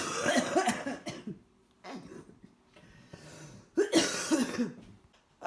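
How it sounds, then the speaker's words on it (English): A person coughs in a house left without heat during a power outage, with harsh bursty coughs in three clusters separated by quieter breathing pauses, close and fairly loud. "I have been coughing since I slept in my house for 2 nights without heat"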